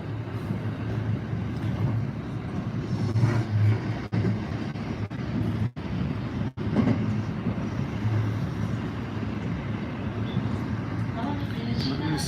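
Interior rumble of a nearly empty train riding along the rails in Japan, a steady low clatter and hum with brief dropouts, while someone talks quietly over it.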